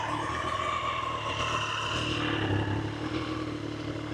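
A Triumph Street Triple 765RS motorcycle engine idles steadily up close, a continuous mechanical hum with light clatter and no voices over it.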